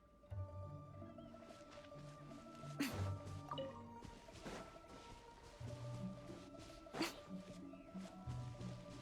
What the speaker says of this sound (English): If this rain keeps up, my fur will be dripping wet.